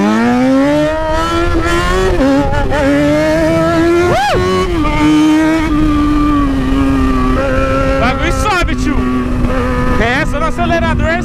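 A Yamaha XJ6 motorcycle with an odd-sounding exhaust revs and accelerates in a loud, continuous engine drone that rises and dips in pitch, with a rider talking over it.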